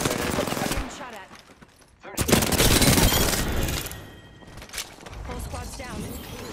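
Rapid automatic gunfire bursts in the battle royale shooter Apex Legends, loud and dense with a lull before a heavy volley, mixed with game effects and a player talking.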